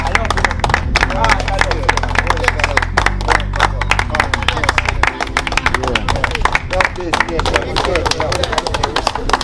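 Crowd clapping in thanks to donors at a gathering in Trench Town, Kingston, Jamaica, dense applause and cheering running throughout over a low hum and some voices.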